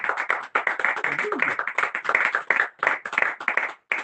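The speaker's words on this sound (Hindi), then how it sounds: "जोरदार तालियां" Clapping in a church service, a fairly close group clapping in quick bursts with short gaps, rising and falling in waves over several seconds.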